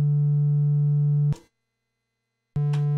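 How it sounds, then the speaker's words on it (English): A modular synthesizer oscillator puts out a steady low sine-wave tone, held for over a second, then cut off and restarted after a short silence, clean and loud with no voices. "We have a sine wave,"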